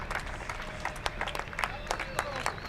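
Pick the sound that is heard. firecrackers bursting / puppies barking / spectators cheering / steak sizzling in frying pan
spectators cheering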